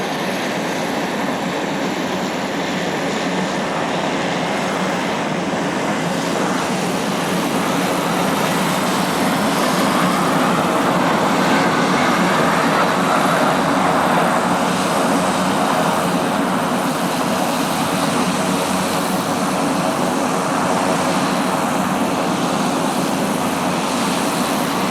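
Steady broad roar of an aircraft landing on runway 26 left at Spirit of St. Louis Airport, a general aviation and business jet field, holding loud and continuous with a swell in the middle, no voices.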